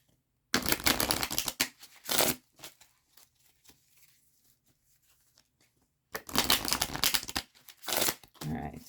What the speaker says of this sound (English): We're going to shuffle this up,